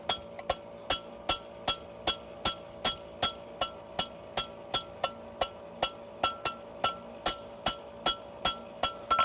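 A farrier hammers a horseshoe at a forging and horseshoeing clinic to flatten a lump, sharp ringing metal strikes landing in a steady, even rhythm of about two per second, close and loud.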